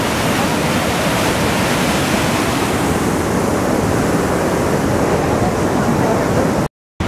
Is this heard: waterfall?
yes